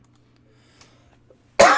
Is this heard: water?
no